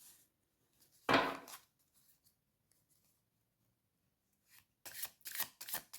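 Tarot cards being shuffled in a quiet room: one firm riffle burst near the start, then a stretch of near silence, followed by a quick run of crisp, close card snaps and flicks at the end.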